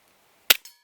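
A single sharp shot from a Cybergun FN Five-Seven airsoft pistol, loud and close, followed by a quicker, fainter mechanical snap a moment later, with no one talking.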